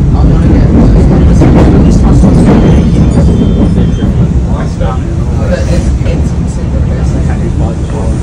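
A Melbourne suburban train at Prahran station gives a loud, close, continuous rumble with rattling wagons, while voices talk over the noise.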